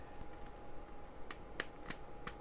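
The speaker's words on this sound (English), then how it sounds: "Now I'm gonna flip this over, cut off the excess edges." Scissors snipping off the excess edges of a handmade shaker card: several short, crisp cuts at a steady pace, close and fairly quiet, with no talking.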